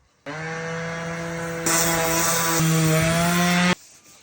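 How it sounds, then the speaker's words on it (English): A power sander runs steadily on a wooden post or beam, holding a loud even whine that steps up in intensity partway through as it bears down on the wood, then cuts off abruptly. "I'm just gonna take a sander and I'm gonna smooth that out"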